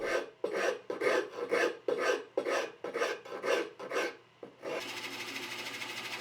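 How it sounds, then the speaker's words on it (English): A rasp files wood in about nine steady back-and-forth strokes, close and loud, followed by a constant mechanical whir. "there's still a little bit of work to do with a rasp"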